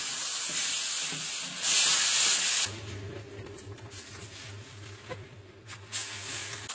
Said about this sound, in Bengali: মশলাটা কষে যেতে এর মধ্যে ম্যারিনেটেড চিকেনটা দিয়ে দিলাম